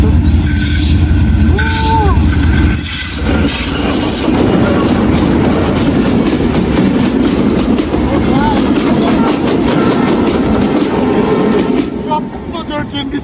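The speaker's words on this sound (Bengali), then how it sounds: "ট্রেন আসতেছে দেখতে পারতেছো তো ট্রেনটা দেখো কত ভালো লাগছে" A train passes near a village market, loud and close, with a continuous rumble and rhythmic clickety-clack of wheels on rails that eases off at the end.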